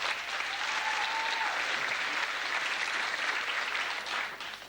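Audience at a 1994 concert in Vredenburg breaking into loud, dense clapping that holds steady for several seconds and then tapers off near the end.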